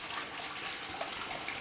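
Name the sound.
water flowing through swimming pool filter on backwash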